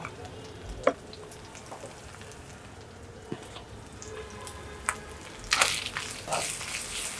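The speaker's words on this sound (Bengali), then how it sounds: "পেঁয়াজটাকে ভালো করে ভেজে নিচ্ছি" Onion fries with garam masala and salt in a pan, giving a soft continuous sizzle broken by a few sharp stirring clacks and a louder scraping burst near the end.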